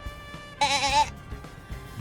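A single sheep bleat from the video game Master Detective Archives: Rain Code, loud and quavering, lasting about half a second over quiet background music.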